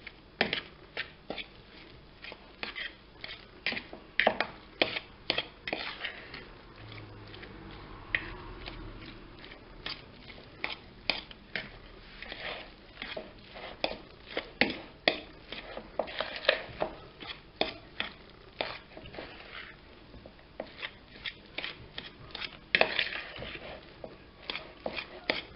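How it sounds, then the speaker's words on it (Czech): Carrot salad with egg and cream being stirred together in a bowl, a steady run of quick, close clinks and scraping strokes with irregular rhythm, with no talking. "A zase to spolu promíchám."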